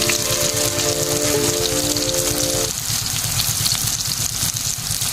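Soybean chunks frying in hot oil in a home kitchen, a steady crackling hiss running throughout with a low rhythmic bubbling pulse, fairly close and loud, no talking.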